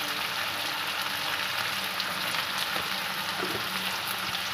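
Chicken pieces fry in oil with a little turmeric and chili powder for homemade chili chicken, producing a loud, dense, continuous sizzle close by with faint stirring scrapes and pops.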